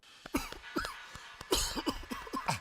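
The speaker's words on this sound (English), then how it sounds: "this your cough" A person coughs repeatedly in a rapid series of harsh, close bursts with short gasping pauses between them.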